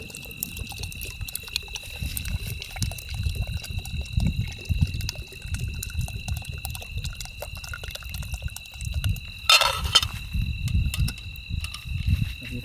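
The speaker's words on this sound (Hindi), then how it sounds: "ये नॉर्मल पानी मिला ले रहा हूँ।" Plain water is poured into a cooking pot at a wild campsite, a low, continuous gurgling splash at close range with a brief burst of clatter midway and a steady electronic whine in the background.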